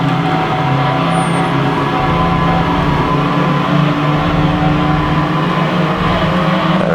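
Steady, loud engine drone of a race car driving around a track in Gran Turismo 2, holding a sustained harmonic whine with no pauses throughout.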